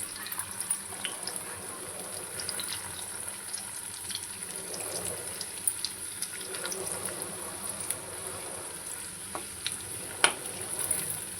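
Vegetable Manchurian balls fry in hot oil in a pan, a steady close sizzle and crackle holding evenly throughout, with occasional light stirring clicks and no talking.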